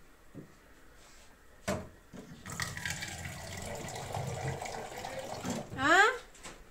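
A kitchen tap runs for a few seconds, a steady rushing stream with a brief clatter before it starts and a splashy burst near the end, fairly close and loud.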